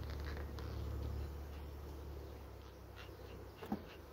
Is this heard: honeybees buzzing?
yes